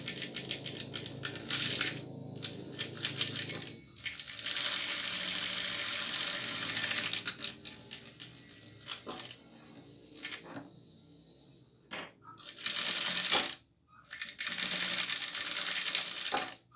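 A home sewing machine stitches and finishes off the fabric ears of a bunny-shaped backpack, running in loud mechanical bursts of several seconds with brief pauses between them and no talking.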